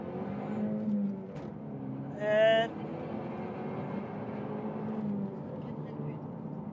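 A Vauxhall VXR in VXR mode revs and pulls away hard from a launch, a steady engine drone heard from inside the cabin with a person speaking briefly over it.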